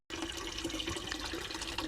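Steady rush of water running into a koi pond during a large water change, continuous and fairly close with no talking.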